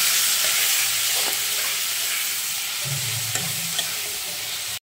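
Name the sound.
stirring tomatoes with salt and turmeric in a frying pan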